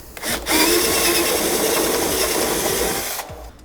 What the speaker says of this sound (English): It's not going to fit, so I am going to drill it out.